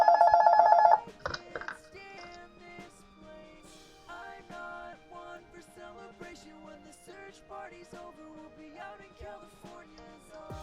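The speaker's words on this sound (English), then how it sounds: "And there's the phone again." A telephone rings in a workplace setting, a loud electronic ring in the opening second that then gives way to quieter tonal sounds and background noise, with no talk.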